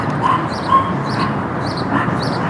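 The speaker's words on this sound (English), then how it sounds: "I see a little chihuahua and there's somebody barking" A little chihuahua gives short, high yips and whimpery barks close by, in a few quick bursts over a soft background.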